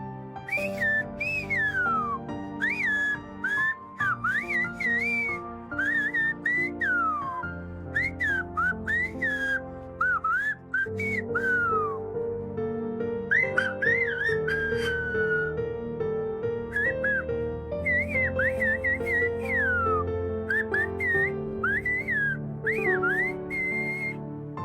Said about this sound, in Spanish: aún se escucha un silbo que llama a la comida, al médico o al aviso de que la Guardia Civil está cerca